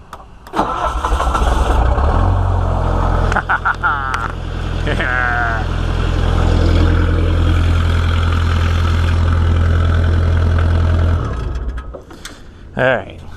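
A Bobcat 1600 wheel loader's diesel engine cranks, catches and settles into a steady, rumbling idle heard up close for about ten seconds before shutting off, with brief clicks and mechanical noises at the start and end.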